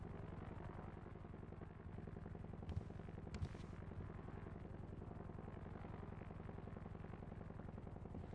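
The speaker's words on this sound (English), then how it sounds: "Why is there a helicopter?" A helicopter in a video game flies overhead, its steady rotor thump continuous and fairly loud throughout, with a couple of brief sharp knocks midway and no talking.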